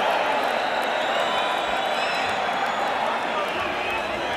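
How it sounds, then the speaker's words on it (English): Boxing arena crowd at the Mike Tyson vs. Steve Zouski fight, a dense, steady wash of applause and cheering that holds at an even level throughout, with voices mixed into the roar. "the crowd is applauding the courage of Steve Zouski as much as they're applauding the efforts of Mike Tyson"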